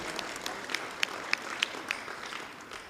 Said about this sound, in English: please give applause for the speakers and for you all.